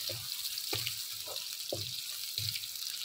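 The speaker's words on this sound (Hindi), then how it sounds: "यहाँ हमने प्याज को इतना फ्राई करना है कि इसका कलर चेंज हो जाए" Onions frying in a pan for a lahori chanay recipe, a continuous soft sizzle with repeated scraping stirs at roughly regular intervals, fairly quiet and close, without speech.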